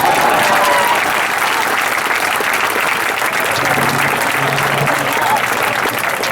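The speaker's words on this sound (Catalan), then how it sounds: "també un fort aplaudiment per nosaltres" A large audience at a habaneras concert during town festivities keeps up loud, continuous applause from start to finish, with faint crowd voices mixed in.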